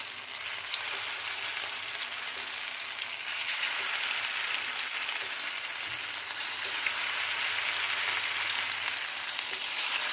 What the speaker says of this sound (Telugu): ఇప్పుడు ఇది షాలో ఫ్రైగా వేయించుకోవచ్చు.